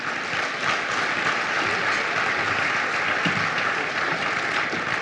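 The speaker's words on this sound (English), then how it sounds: "Let's give the mayor a round of applause," A banquet-hall audience at an anniversary gala for the Erie Housing Authority applauds the mayor, a thick, sustained wash of clapping from many hands at even loudness throughout.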